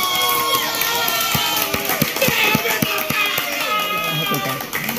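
Crowd applause and cheering from an audience at a live event in a primary school, honoring the state governor, with voices and shouts mixed into the clapping throughout.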